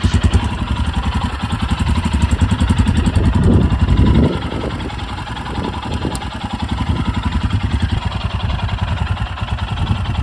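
A Harley-Davidson motorcycle engine idles close by with a steady, loud, lumpy mechanical rumble throughout, with no talking.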